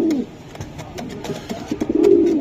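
Racing pigeons coo close by in repeated low, throaty rolling calls, with a longer swelling coo near the end, heard alone without talk.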